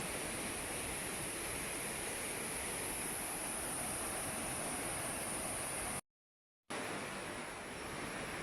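Tumpak Sewu waterfall in Lumajang, East Java, gives a steady, dense roar of falling water that fills the whole span, broken by one short silent gap near the end.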